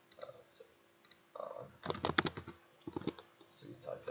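A computer keyboard is typed on in quick bursts of close, crisp key clicks, separated by short pauses.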